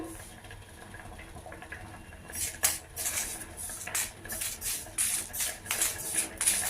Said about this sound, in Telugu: ఒక మూడు మిరపకాయలు వేసి మనం డ్రైగా వేయించుకోవాలి ఇలాగా నూనె కూడా అవసరం లేదు